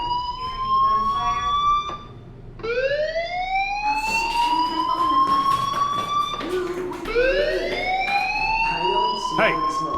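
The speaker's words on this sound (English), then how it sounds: "Hey, do you hear that fire alarm? That means you should be outside." Fire alarm ringing in the video game Life is Strange, a loud wailing tone that sweeps upward again and again, continuous for the whole span with faint game sounds beneath.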